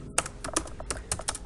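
Rapid typing on a computer keyboard, a dense run of crisp key clicks in an uneven rhythm, close and clear, with no voices.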